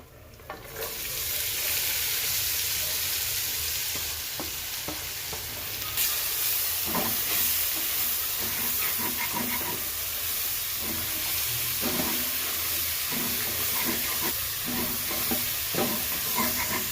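Green garlic, green onions, regular onions and a chili-ginger paste fry in hot ghee for a gravy, a steady loud sizzle and hiss with intermittent clinks and scrapes of stirring, no voices.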